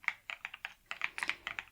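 Quick, light keystrokes on a computer keyboard during a hotel check-in, tapping in short irregular bursts with brief pauses, close and crisp with no talking.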